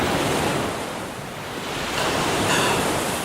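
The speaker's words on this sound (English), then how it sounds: "Whoa, that's another huge wave." Huge ocean waves crash in a video game, a loud continuous roar of surf and spray that dips briefly and then surges back.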